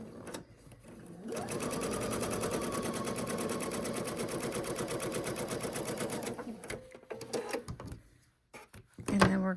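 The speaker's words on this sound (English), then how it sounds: "Sew this edge out." A sewing machine stitches a seam on a quilt block, a close, fast, steady mechanical whir that runs for several seconds before stopping, followed by fabric handling and brief rustles.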